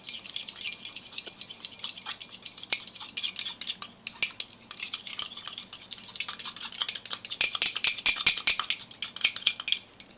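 Cookie mixture being stirred in a cup for a microwave cookie, a spoon clinking and scraping steadily against the sides, close and continuous for about ten seconds.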